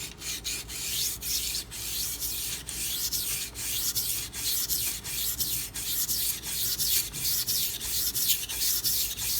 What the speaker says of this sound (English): What I'm going to have to do is sharpen this at two different angles.